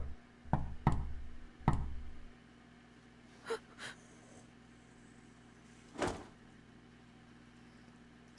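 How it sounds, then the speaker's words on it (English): Knocks sound at a door in the Chaos;Child visual novel: a cluster of sharp raps, then a couple of lighter taps, and a final firm knock after a pause, all against a quiet background. "Suddenly, I heard a knock at the door."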